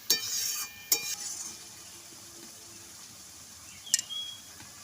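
Turmeric being stirred into spices in a hot pan, heard as a few sharp spatula scrapes and clinks against the pan with a faint steady sizzle between them.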